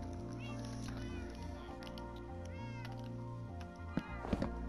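Small house cats meowing repeatedly indoors, rising and falling cries scattered through the clip under continuous nearby talk and a steady low background hum.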